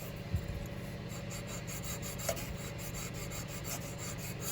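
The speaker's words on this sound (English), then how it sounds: "You can go over it with a fine steel wool." Fine steel wool rubbing a pewter knife bolster smooth, a steady close scratchy rasp running continuously with a couple of brief louder scrapes.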